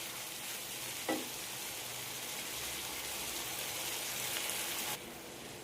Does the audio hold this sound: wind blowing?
no